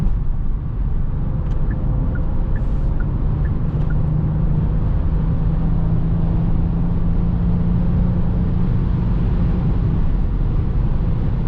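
Low, steady engine drone inside a moving Genesis GV70 in sport mode, with constant road and wind rumble and a faint rising tone, loud and unbroken.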